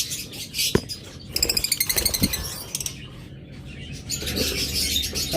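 Pet breeding pairs of birds that are starting to nest chirp and tweet close by, with a rapid run of repeated bright notes, scattered calls and a brief wing flutter, over quiet room noise.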